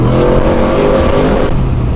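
A 900 hp manual turbo LS-powered Holden Commodore SSV accelerates hard, its engine roaring loud and close in a steady, sustained pull for about two seconds.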